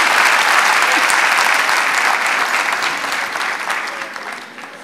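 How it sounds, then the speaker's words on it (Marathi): Loud, dense audience applause at a stage performance honouring a young violin accompanist, sustained throughout and tapering slightly at the end. "मला वाटतं या चिमुरडीसाठी सुद्धा एकदा जोरदार टाळ्यांचा गजर करूया."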